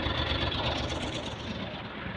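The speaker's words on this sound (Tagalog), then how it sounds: "indication na goods yung ating makina nakaandar lang niya ngayon yan" Suzuki F6A Multicab engine idling after a top overhaul, a steady close mechanical hum that runs evenly through the whole short stretch with no voices.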